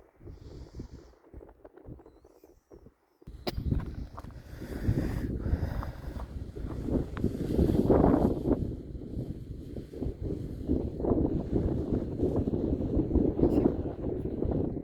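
Gusty wind buffets the microphone in low rumbling bursts, with rustling and flapping noises continuing throughout after a brief quiet start.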